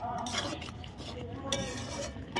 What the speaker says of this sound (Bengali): এইভাবে নাড়তে থাকবো এটা।